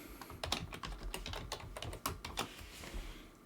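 Quick bursts of clicking keystrokes on a computer keyboard as a password is typed, close and fairly quiet, with irregular rhythm and short pauses between runs of keys.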